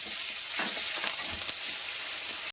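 Ground spice paste hits hot oil in a kadai with green chillies, a loud, dense sizzle and crackle with scattered spits and stirring scrapes throughout.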